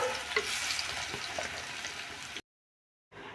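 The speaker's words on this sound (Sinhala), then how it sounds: "තෙල් පොඩ්ඩක් රත් වුණාම සුදු ලුණු ටික හැම බැදෙන්න දීලා මාළු" Sea fish frying in hot oil with garlic sizzles loudly and steadily up close with crackling pops, then cuts to silence before faint sound returns.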